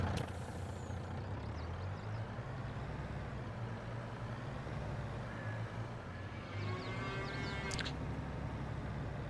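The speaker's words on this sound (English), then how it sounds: "let's get up and tip this truck back up at the seed factory" A truck in a farming video game runs near a seed factory, its engine rumbling steadily with a short hiss of air brakes near the start and another near the end.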